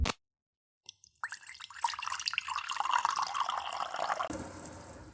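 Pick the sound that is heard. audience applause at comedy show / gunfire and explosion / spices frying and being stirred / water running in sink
water running in sink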